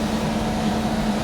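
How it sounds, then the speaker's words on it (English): A steady mechanical hum and airy rush of a kitchen exhaust fan running continuously during home beer brewing, loud and close, with a low tonal drone underneath. "now I've got the fan on. I'm sorry about the noise"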